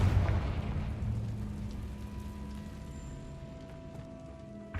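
A deep, booming fire spell blast in the Hogwarts Legacy video game, a loud low explosion that rumbles and slowly fades over several seconds, leaving faint tonal hum and crackle behind.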